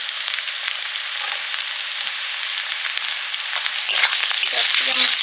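Chopped carrots fry in a pan for mixed fried rice, making a loud, dense and continuous hiss up close that swells slightly toward the end, with no talking.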